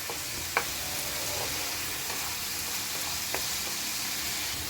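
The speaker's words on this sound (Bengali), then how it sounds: "পেঁয়াজটা অল্প ভাজা ভাজা হয়েছে" Soft, steady sizzle of onion frying in a pan, with a couple of faint clicks; no voices.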